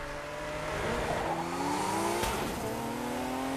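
Race cars at the start of an event in The Crew 2 video game, engines droning with rising revs and a brief tire squeal, steady and fairly loud with no talk.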